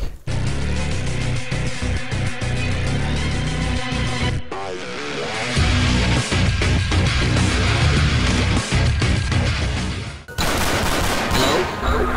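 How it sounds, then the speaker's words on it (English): Heavy video game gunfire aimed at the player, dense bursts of automatic shots and rapid cracks hammering loudly for several seconds, a short pause, then more shooting. "Who's shooting me?"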